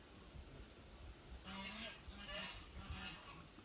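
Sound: birds calling loudly

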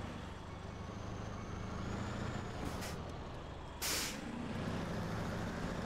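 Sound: truck trailer being detached in the video game SnowRunner

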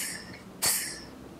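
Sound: beatbox imitation of a hi-hat

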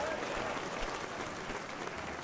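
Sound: crowd applause in the video game Paint the Town Red

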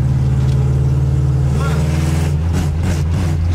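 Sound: Chevrolet Chevette car engine revving

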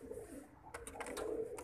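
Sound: pigeons

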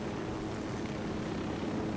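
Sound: drone flying in video game Ghost Recon Wildlands

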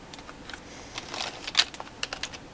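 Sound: Logitech K60 keyboard keys being clicked

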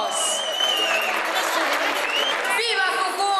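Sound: applause for prize-winning team

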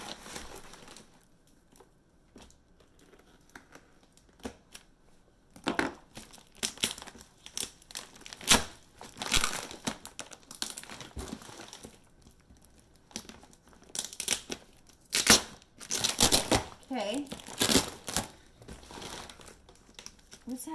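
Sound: cutting open a package with a knife

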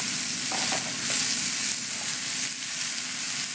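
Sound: onions and eggplant frying in a pan for ratatouille

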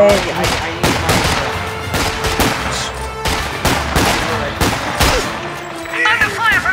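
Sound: gunfire from a video game

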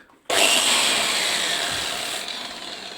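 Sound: angle grinder

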